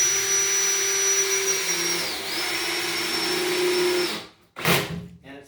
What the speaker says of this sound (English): once you put in even just one screw here, that thing is locked in.